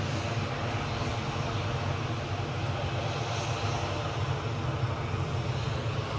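Airbus A340 jet airliner, a continuous loud engine roar with a deep rumble, steady and unbroken throughout with no voices.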